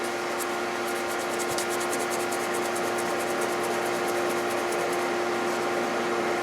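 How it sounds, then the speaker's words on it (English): Fine 1500-grit sandpaper wet with WD-40 rubs steadily over a Ford 2010 F150 4.6 3V engine part, a continuous close abrasive swishing with a low hum beneath and no talk. "I mean this sandpaper is so fine. 1500. I mean, this is what you wet sand paint with."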